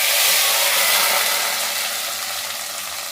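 Steady, loud, hissing sizzle as marinated chicken hits hot oil spiced with cinnamon, cloves and bay leaf in a clay pot for dhaba-style chicken, slowly easing off over a few seconds.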